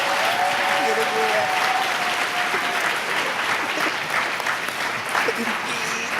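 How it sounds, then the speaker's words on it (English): An audience at a community schools national forum gives young performers a dense, continuous round of applause, with scattered voices and cheers mixed into the clapping. "I do want to invite you to give one more round of applause to these young people"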